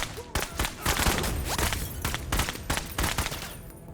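Rapid volleys of gunfire in the tactical video game Menace, a quick series of sharp shots and bursts close together over a few seconds, fairly loud with a little background noise.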